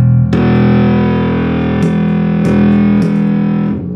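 A heavily distorted bass guitar note through a boost pedal rings out loud and sustained, with a few sharp re-picked attacks before it fades.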